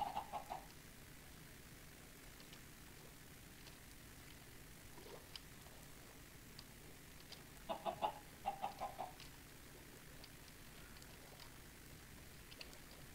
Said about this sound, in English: Oh, come back here, chicken.